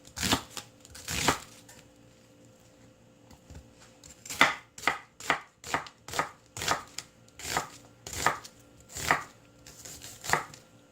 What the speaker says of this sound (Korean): 양파 반개를 썰어줍니다